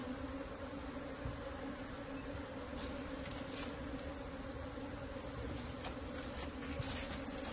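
Honeybees humming steadily around an open beehive in Africa, a dense, continuous buzz that stays even and fairly faint throughout, with no voices.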